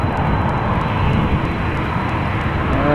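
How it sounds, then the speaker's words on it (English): Airliner with GE CF6 jet engines at Amsterdam Schiphol Airport, a loud continuous broadband roar with deep rumble and steady engine whine, close and unbroken for the whole stretch, no talk. "what we are hearing are CF6s"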